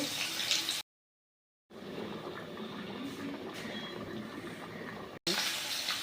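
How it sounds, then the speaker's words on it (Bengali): Rohu fish frying in a pan of oil for a home-style curry, a steady crackling sizzle that runs throughout with a brief silent gap, close and moderately loud with no talking. "এই দেখুন মাছ ভাজি"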